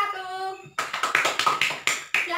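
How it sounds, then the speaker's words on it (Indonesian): Classmates clap for a student group after its presentation, a burst of applause from a small group in a classroom that starts abruptly after a teacher's voice and stays loud and uneven to the end. "tepuk tangan buat kelompok"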